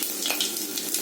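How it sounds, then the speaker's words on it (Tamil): Fenugreek and cumin seeds sizzling in hot sesame oil in a pan for tempering, a dense, steady, close crackling hiss throughout with no voices. "இதில் வந்து வெந்தயம், ஜீரகம் தாளிப்புக்கு."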